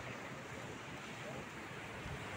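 Surf of the Peruvian sea washes steadily onto the shore, a broad continuous roar with some wind noise across the microphone and no distinct breaks between waves.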